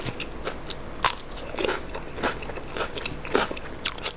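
Crunchy bites into grilled pork ribs, with close, crisp crackling crunches and chewing in irregular bursts, no speech.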